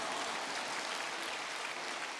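Church congregation clapping together in a steady, dense wash of applause that holds at even loudness throughout, with no talk over it.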